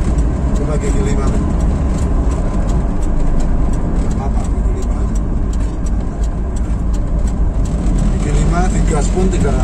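A Suzuki Espass car fitted with a Blackcore part cruises in fifth gear at about 1000 RPM, its steady low engine drone and road rumble continuous throughout, with speech over it.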